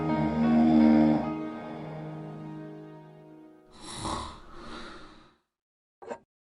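Someone snores in the video game Gabriel Knight 3, heard from behind a door: one long rumbling inhale, then two shorter snorting breaths and a brief faint snort after a pause.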